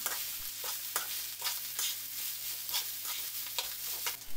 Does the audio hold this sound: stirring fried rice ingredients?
yes